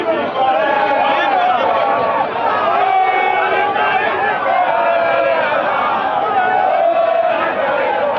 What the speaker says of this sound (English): You can see them, the crowd is mad here.